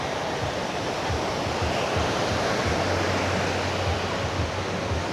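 Ocean surf at Paradise Beach in Da Nang, Vietnam, a steady loud broadband wash of breaking waves with a low rumble underneath, continuous throughout with no voices.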